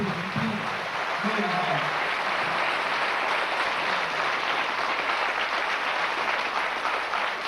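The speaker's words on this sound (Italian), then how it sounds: "un applauso fortissimo, proprio forte, applauso" Strong sustained applause from a concert audience in a theatre hall, a thick even wash of clapping that carries on steadily, with a voice briefly audible near the start.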